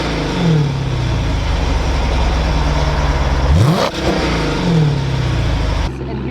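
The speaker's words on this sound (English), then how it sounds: "Here's the before clips of the revs." A Dodge Charger SRT8 on its exhaust before being straight-piped is revved repeatedly: loud, close throttle blips rise and fall, with one sharp climb and drop midway, then a brief settle back toward idle.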